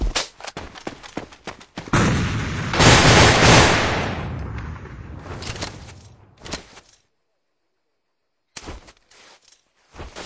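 Grenade thrown and exploding in the online shooter A.V.A, a loud burst of blast and rumble after several sharp gunshots, then silence and a few more scattered shots.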